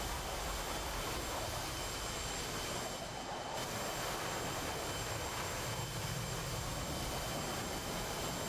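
An F/A-18 Hornet's jet engines in the DCS flight simulator, a steady broadband roar that holds for several seconds with a brief dip partway through, no talking.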